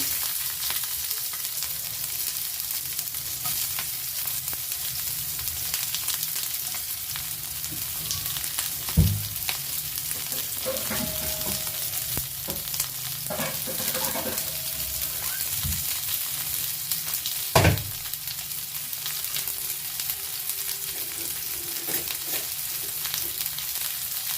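Onion, green chillies and curry leaves frying in a pan for a village-style chicken curry, a constant close sizzle with a couple of brief stirring knocks and scrapes, no voices.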